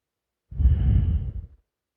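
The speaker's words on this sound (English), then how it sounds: "We'll do just a nice inhale and exhale of your normal breath." A single breath, probably a deep exhale, heard close and clear as a soft airy whoosh of about one second, with nothing else around it.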